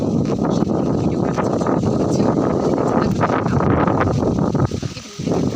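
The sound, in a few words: strong wind blowing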